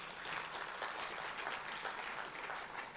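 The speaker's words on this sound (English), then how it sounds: "Can we give her a round of applause, please?" An audience at an Arab Coordination Group forum applauds, a faint but dense, even patter of clapping throughout with no talk over it.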